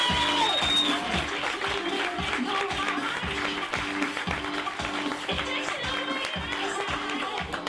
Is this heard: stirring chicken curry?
no